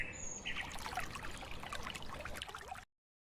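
Water pours in a steady, close stream for about three seconds as someone washes their hands and face, then cuts off abruptly into silence.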